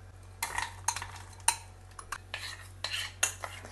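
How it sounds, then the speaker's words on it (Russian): A utensil stirs heated cream and chocolate in a pot over the heat, making repeated light scraping and clinking strokes at an irregular rhythm, close by but faint, with no talking. "подогреваем сливки и потом туда положим шоколад. Ставим на огонь и мешаем."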